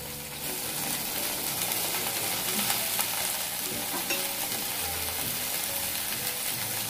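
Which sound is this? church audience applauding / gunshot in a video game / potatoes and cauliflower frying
potatoes and cauliflower frying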